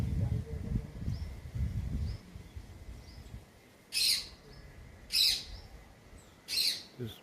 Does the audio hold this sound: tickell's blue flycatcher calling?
yes